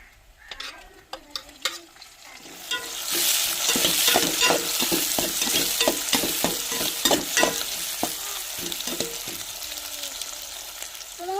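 Onions and green chillies sizzle and fry in a pan while a spoon stirs them, scraping in a steady rhythm close by, with no one talking.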